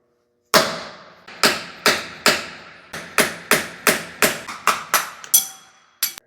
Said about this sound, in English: I'm going to use a bearing removal tool. Set it in here and tap this bushing out.